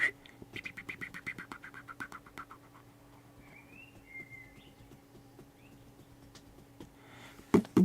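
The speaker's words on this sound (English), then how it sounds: "Oh, I love that blackbird." A blackbird sings faintly in the distance, a few soft fluting phrases and whistles over quiet background noise, with rhythmic tapping early on.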